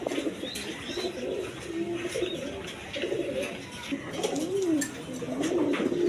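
Indian Bombay pigeons at a pigeon sale, close, repeated soft rolling coos over a busy background, with someone talking nearby and faint chirps mixed in.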